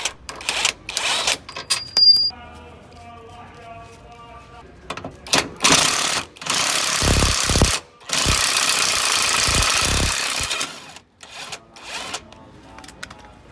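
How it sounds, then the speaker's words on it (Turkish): Several short bursts of a pneumatic impact wrench hammering loudly, removing car control arm bolts from underneath, separated by pauses, with clanks and rattles of metal parts in between. "alt taraftan cıvataları darbeli somun tabancası ile"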